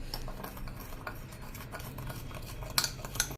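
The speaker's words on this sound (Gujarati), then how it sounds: "કોલગેટને પણ આ રીતે ચાની ભૂકી સાથે જ મિક્સ કરી લેશું." White Colgate toothpaste being stirred together with tea leaves makes a quiet, close scraping and rubbing, with a couple of light clinks near the end.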